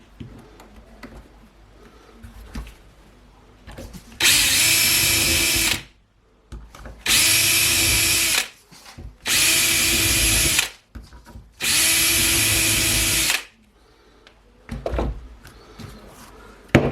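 Power drill boring holes during a crash repair of a DJI Flamewheel F550 drone frame, heard as four loud sustained bursts of several seconds each, separated by short pauses, with no talk.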